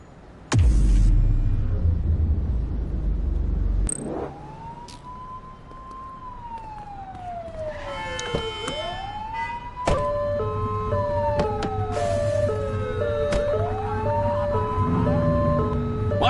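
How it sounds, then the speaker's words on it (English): A police siren in the video game The Precinct wails, sweeping up and down, then switches to a rapid alternating yelp, loud and steady over engine rumble. "Turn that siren off."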